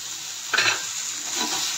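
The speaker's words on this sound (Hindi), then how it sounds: "को अलटते और पलटते हुए हम इनको सेक लेंगे" Cubes of paneer roasting on a hot tawa sizzle steadily, with a brief spatula scrape and stir partway through.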